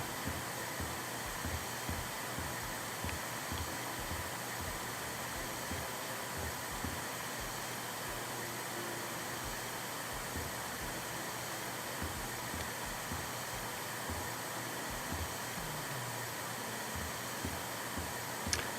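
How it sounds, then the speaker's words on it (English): Vacuum cleaner in the video game House Flipper 2, a constant whirring hiss that runs steadily without breaks, moderately loud and alone. "Let's get out the vacuum."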